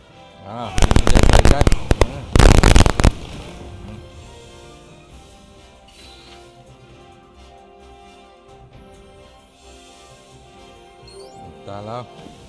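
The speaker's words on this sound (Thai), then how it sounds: "ยิงปืนใหญ่กันนิดเดียวเอง" Two loud bursts of booming ship cannon fire crackle in quick succession in the game Uncharted Waters Origin, followed by a quieter stretch of game sounds and a voice speaking.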